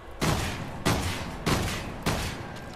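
Four evenly spaced blasts from a shotgun attachment in Call of Duty Ghosts, each a loud booming crack with a short decaying tail, fired alone at a steady rhythm.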